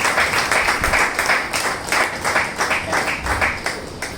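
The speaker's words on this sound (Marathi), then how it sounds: "एकदा जोरदार टाळ्या होऊ देत आपल्या सगळ्यांच्या वतीने." Loud audience applause welcoming a speaker at a lecture event, many hands clapping in a rhythmic, pulsing wash that swells and dips steadily, with no talk over it.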